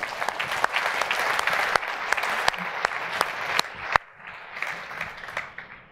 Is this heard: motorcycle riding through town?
no